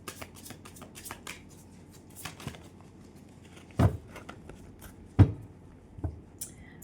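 Tarot cards shuffled and drawn, with soft close riffling and flicking throughout, punctuated by a few louder slaps as cards are laid down, in an otherwise quiet room.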